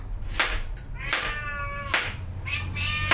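A pet cat meowing indoors, three or four separate drawn-out meows spaced about a second apart, close and fairly quiet against a low background hum.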